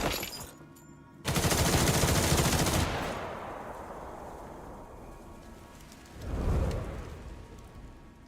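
Gunfire in the video game Duet Night Abyss, a loud dense burst of rapid automatic shots lasting a couple of seconds and fading into a long noisy tail, followed later by a second swelling blast.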